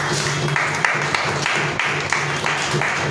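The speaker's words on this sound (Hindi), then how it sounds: "उनके लिए जोरदार तालियां।" An audience at a Delhi poetry gathering (kavi sammelan) claps to welcome an honoured guest, a steady wash of clapping with a low hum underneath.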